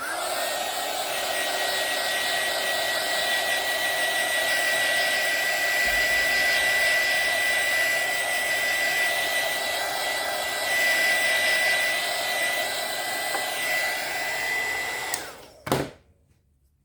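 A hair dryer blows steadily on an alcohol ink painting of a mermaid mold, a loud, close, continuous whining roar that runs uninterrupted for about fifteen seconds before clicking off.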